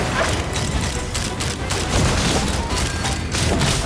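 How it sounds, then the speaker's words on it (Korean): A dense, continuous gunfire volley fills a Genshin Impact cutscene, a loud, steady roar of overlapping shots and blasts with no break. "발포. 남김없이 쏜다."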